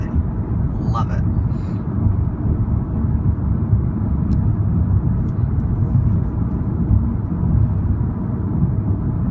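A 2015 Audi S3 on the move down a rough, miserable road, its engine and tire roar a loud, steady low rumble from inside the cabin, with no speech.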